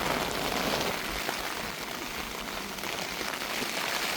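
Rain falls steadily at a bridge construction site, a dense even hiss of drops on surfaces, continuous and fairly loud throughout with no voices.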